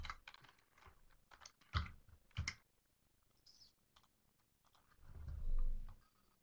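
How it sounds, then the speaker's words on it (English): Typing on a computer keyboard in irregular bursts of close, quiet key clicks, with a few louder thumps and a low rumble near the end. "typed it in wrong"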